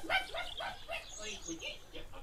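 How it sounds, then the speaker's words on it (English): A distressed dog in a radio drama barks, yips and whimpers in a rapid, agitated series of close, fairly loud calls. "now hysterical dog."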